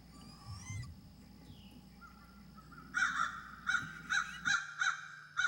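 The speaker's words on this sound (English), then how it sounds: "was chased back to the nest by a flock of crows" A flock of crows caws near an owl nest. A faint hum opens the clip, then comes a run of loud, harsh caws at a steady rhythm, close by.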